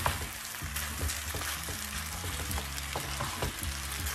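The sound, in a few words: stirring rice noodles with vegetables in a pan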